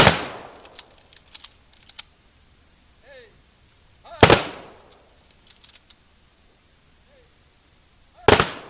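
Muskets fire on command at a historical battle reenactment, three sharp loud blasts spaced several seconds apart, with faint voices and scattered clicks and rustling between shots.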